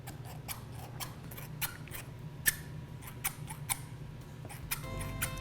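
Scissors snipping excess pie crust dough off the sides of a pie plate, a run of crisp close clicks at an irregular, roughly half-second rhythm over a low background hum.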